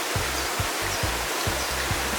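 Steady broadband rush of a river flowing in Portland, Jamaica, continuous and fairly loud, with a low rhythmic thumping repeating about every half second underneath.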